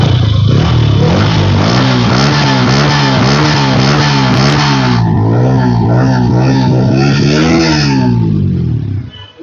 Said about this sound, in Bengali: একটু এক্সেলেট করেন তো ভাই, আমরা একটু সাউন্ডটা শোনাই।